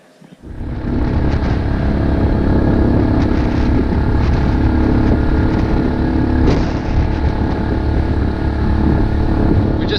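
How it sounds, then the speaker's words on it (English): Tuk-tuk ride from Puerto Plata Marina to Luperon town in the Dominican Republic, a loud close engine rumble that starts up at once and drones steadily with road noise. "Taking the tuk-tuk back out to Luperon town from Puerto Plata Marina."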